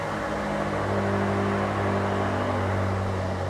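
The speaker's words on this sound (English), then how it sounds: "it's going to remote engine start for you. Flashes and starts up." A 2021 BMW M8 engine started by key fob remote start settles into a steady, close idle, a continuous low mechanical hum with a faint fan-like whir and no talk.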